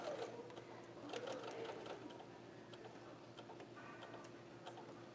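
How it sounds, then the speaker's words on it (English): A sewing machine stitches a quilt block, a quiet, rapid, even mechanical ticking hum running steadily with a brief pause near the middle. "I'm going to sew it right up the center."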